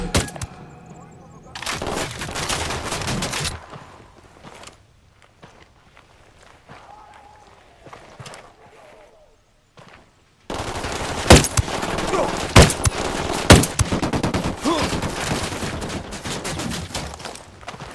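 Machine gun fire in Ghost Recon Wildlands: rapid loud bursts rattle near the start, fade to quieter moments with footsteps, then resume in a long, dense barrage of close gunfire, with voices at times.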